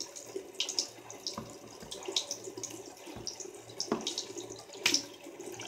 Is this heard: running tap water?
yes